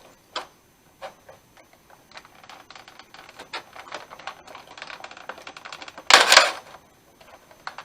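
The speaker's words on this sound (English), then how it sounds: "Cue the 5 minutes of struggling to get this plastic piece off." Someone struggles to pull a plastic piece off action figure packaging, giving scattered small clicks and plastic ticks up close, ending in a louder burst of crackling plastic as it comes free.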